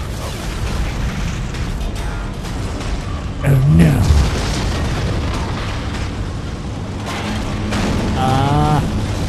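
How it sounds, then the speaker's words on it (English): Explosions boom in the Dead Space video game, a loud burst near the middle of the clip over a steady rumbling game soundscape, with a voice reacting in alarm. "Explosions! Explosions!"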